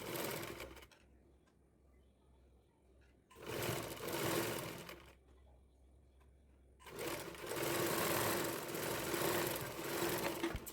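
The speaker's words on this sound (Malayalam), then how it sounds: "പതുക്കെ പതുക്കെ സ്റ്റിച്ച് ചെയ്ത് കൊടുക്കുക." A sewing machine stitches a round fabric neckline in three runs of fast, steady mechanical whirring and clatter, starting and stopping with quiet pauses between, close and clear.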